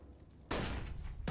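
Rapid gunfire from rifles in a CS:GO professional match at the BLAST.tv Major 2023, a sudden loud burst of shots cutting in after quieter ambience, then another burst starting just after.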